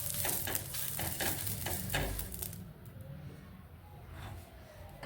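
Thalipeeth (dhapate) flatbread frying in oil on a hot griddle, with onion pressed onto the pan, gives a steady sizzle and crackle throughout, with scraping or stirring taps in the first half and a softer hiss afterward.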